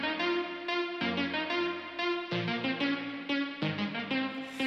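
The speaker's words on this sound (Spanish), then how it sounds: "Tenemos un Lifeline Expanse que le da un toquecito a las melodías" Synth melody with a bright, harmonically rich tone, run through a Lifeline Expanse effect for a wild, eighties colour; stepped notes change roughly every second over a sustained low line, steady and alone without talk.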